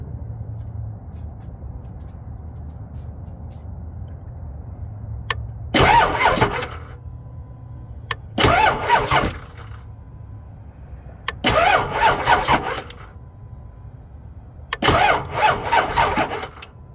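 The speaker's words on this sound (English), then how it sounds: "I'm gonna go crank it a couple more times." A 2001 Ford F-250 Super Duty pickup engine cranks in four separate bursts, each lasting about a second, with quieter pauses and a low steady hum between attempts.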